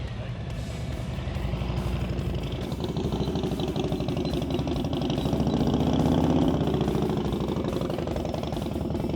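A motorcycle engine idles close by with a steady low throb during a practice session, swelling briefly as the revs rise slightly, with no talking.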